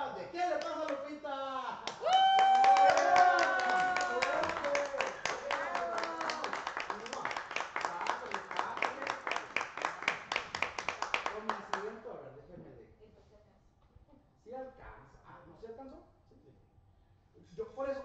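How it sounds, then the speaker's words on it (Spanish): Audience clapping in the studio of a Mexican variety talk show, loud and dense for about ten seconds and then thinning out, with people speaking over it and talk continuing once the applause has faded. "me ayudan también con un fuerte aplauso"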